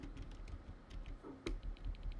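Quiet keystrokes on a computer keyboard during video-editing work, a loose run of light clicks with a brief louder tap near the middle, over low room hum.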